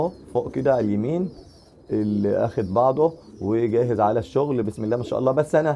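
Pigeons in a loft coo softly in the background while someone talks steadily over them, his speech dominating.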